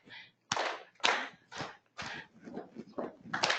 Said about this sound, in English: Clap, clap, clap, clap, stomp, stomp, clap.